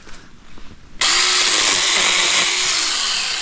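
A chainsaw with a slightly loose chain bites into a log at a snowy camp in southern West Virginia, starting abruptly after a second of quieter noise and holding a loud, steady, high-pitched cutting whine.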